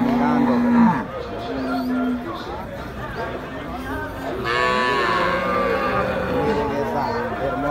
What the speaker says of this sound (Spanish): Aquí estamos viendo esta vaca